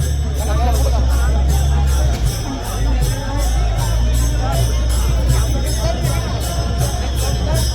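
A dense crowd gathered at a Tukaram Maharaj ceremony makes a loud, constant babble of many voices close by, with people talking throughout.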